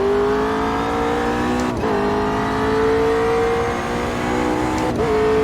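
A car engine in a VR racing video game revs steadily with rising pitch, loud and continuous, briefly dropping twice as gears shift before climbing again.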